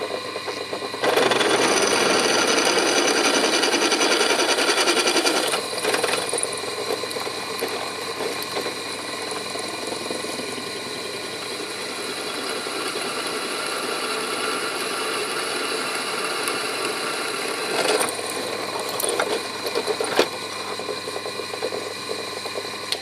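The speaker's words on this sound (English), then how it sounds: "what I'm going to do now is drill all the way through straight, keeping this as straight as I possibly can do," A drill fitted with a 6 mm bit bores straight through both sides of a steel pipe for a fruit cage, its motor whining loud and steady for about twenty seconds, with a brief dip partway through.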